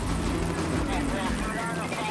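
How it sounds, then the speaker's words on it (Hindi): A helicopter drones in a cartoon scene, a steady loud rotor rumble that runs the whole moment with a bright voice talking over it. "मुझे हेलीकॉप्टर की आवाज आ रही है।"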